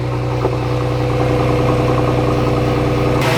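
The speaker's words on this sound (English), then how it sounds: "it's still on high idle, but yeah, it went down a little bit" A modified police interceptor car's engine runs at high idle, a loud, steady, low rumble with a constant pulsing exhaust drone heard close up and alone, unchanged throughout.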